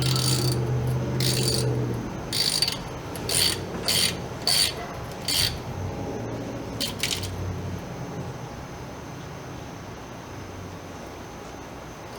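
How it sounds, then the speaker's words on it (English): Ratchet clicking in short bursts while cover bolts are tightened on a Crown Victoria rear differential, a series of quick, close metallic clicks, then quieter workshop handling noises. "and tighten it back up"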